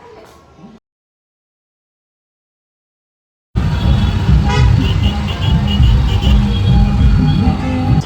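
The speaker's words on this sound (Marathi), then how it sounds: "इतकी ट्रॅफिक झाली आहे" Busy city road traffic heard from a two-wheeler, with engines rumbling and repeated car horns tooting close by after a brief silent gap.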